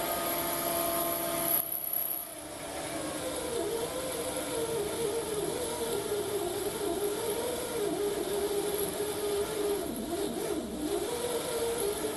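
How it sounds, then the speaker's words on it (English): A 775 DC motor drill running at 12.6 volts bores a 5mm hole in machine-grade steel, giving a steady whining drone whose pitch wavers as the bit loads and eases, with a brief dip near the start. "I'll come in close on the metal, you can see how the drill's working"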